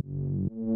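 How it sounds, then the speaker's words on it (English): Reese bass synth layer from a fierce club track, a thick, detuned buzzing bass note held for half a second, then a second sustained tone, loud and alone with no talk. "The first one here is this Reese bass,"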